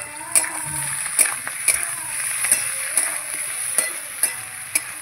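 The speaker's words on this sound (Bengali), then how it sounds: "গাঁঠি কচু, পেঁয়াজ আর পেঁয়াজ কলি ভালো করে ভেজে নিয়েছি।" Taro, onion and spring onion fry in a pan with a steady sizzle and crackle, broken by sharp spatula scrapes and clinks at irregular intervals, close and moderately loud.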